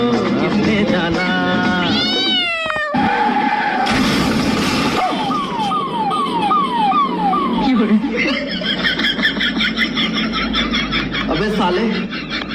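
A cat meows in a series of rising and falling calls mixed with siren-like wails, loud and close, with people's voices around it.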